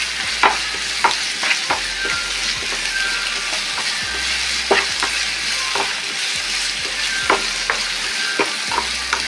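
Sliced onions frying in a pan for a simple egg curry: steady close hiss of hot oil with periodic clicks and scrapes from stirring, even in level throughout, with no one speaking.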